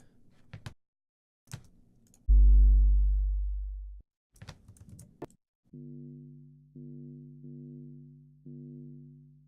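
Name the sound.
distorted band-passed send signal for sub bass sweetener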